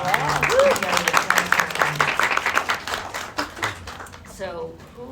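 Round of applause from a panel audience at Boston University, dense clapping filling the room with a voice speaking over it throughout.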